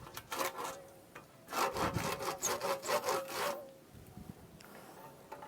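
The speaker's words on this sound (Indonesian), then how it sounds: "dengan menggunakan gergaji seperti ini" A hand saw rasps through a custard apple tree branch in a run of quick back-and-forth strokes, loud and close, then trails off into quiet.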